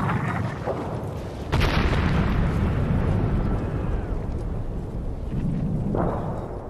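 World War I artillery shell fire: deep rumbling booms and explosions roll across a battlefield, with a loud blast near the middle and another toward the end over a continuous low roar.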